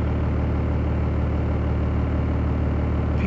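A vehicle's engine idles nearby with a constant low rumble and vibration, steady and unchanging from start to finish, with no other sounds over it.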